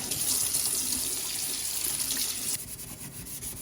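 Hot water from a tap gushes steadily and loudly into a stainless steel sink, a continuous hiss of running water that drops slightly in level near the end.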